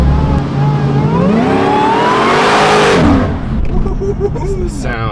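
The engine of a modified Jeep 392 revs hard on the road, rising to a loud roaring peak and then dropping back to a lower rumble.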